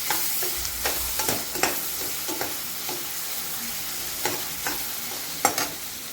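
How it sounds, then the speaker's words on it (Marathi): Chopped tomato added to cooking onion fries in a pan for a French beans dish, a steady close sizzle punctuated by repeated scraping and tapping of a spoon stirring, moderately loud, with no talking. "आता यामध्ये आपण अर्धा जे टोमॅटो चिरून घेतलं होतं मी ते"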